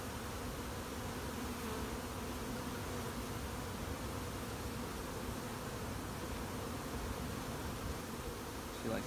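Honey bees hum from an open hive, a dense, steady drone of many wings that continues without a break, fairly close, with no talking.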